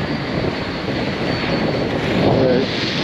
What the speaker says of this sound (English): That's the big bad jet blue